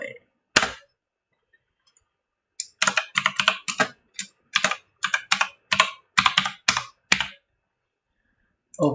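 Fingers tap out a run of keyboard keystrokes for a name entry during an Ubuntu 18.04 install in VirtualBox: a lone click, a pause, then a quick irregular burst of about a dozen crisp close clicks, with near silence between.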